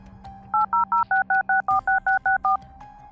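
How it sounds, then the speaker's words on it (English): Telephone dialing tones, eleven evenly spaced crisp beeps in a quick regular rhythm, loud and clear over a faint low background hum. "They let me use their phone and I called the police."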